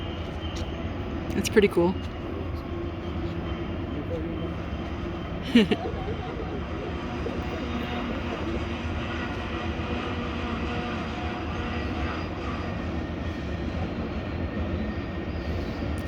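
A train rumbles steadily through the Spiral Cut, heard from a distance as a continuous low roar with a couple of brief louder knocks, while people chat nearby.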